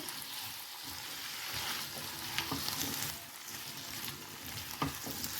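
Diced potatoes with ginger paste fry in a pan for samosa filling, giving a steady close sizzle with occasional crackles and soft stirring scrapes, no voices.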